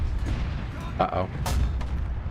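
Artillery barrage in a war video game, heavy low rumbling booms and dull impacts that run continuously under a voice, with a sharper burst partway through.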